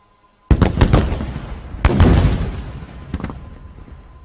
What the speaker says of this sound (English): Please watch area FOL dumps at Tango 4, Tango 5 on the left, and Tango 8 and Tango 9 on the right for incendiary strikes.